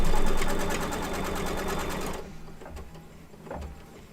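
Embroidery machine stitching a design, fast rapid needle chatter running loud for about two seconds, then stopping into quieter room noise with a few soft clicks.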